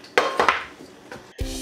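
Small cake pans clank and clatter as they are handled, with a few quick metallic knocks close by and a final heavier clunk, and no one speaking.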